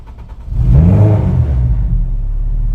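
A turbocharged Honda K-series car engine fires up after a brief crank and swells to a loud, close rumble, then settles into a steady, slightly lower idle.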